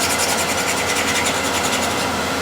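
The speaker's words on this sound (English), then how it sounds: "I'm going to now hone the right side of the spindle gouge as well" A spindle gouge has its right side honed, giving a steady, close rasping rub that keeps an even, unbroken texture for the whole stretch with no voices.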